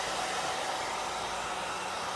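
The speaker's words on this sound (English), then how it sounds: "Mary Lee, it takes a few minutes to dry it with a hair dryer" A hair dryer blows hot air over freshly applied chalk ink on a t-shirt, a steady, even whoosh of airflow with no other sounds.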